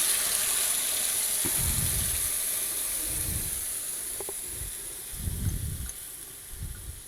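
Garlic, red chili and cumin chutney hisses and sizzles in a hot pan, a steady close frying hiss with bursts of bubbling that rise and fall several times.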